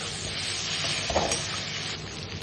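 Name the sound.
onions and potatoes frying and being stirred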